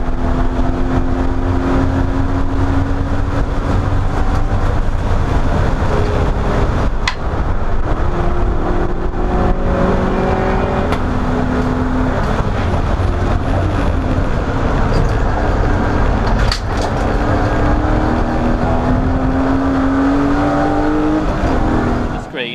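Racing cars, among them BMW E36 and BMW Compact models, pass on the Oulton Park circuit during a 750MC club enduro, loud continuous engine roar with revs rising and falling as cars go by, commentary underneath.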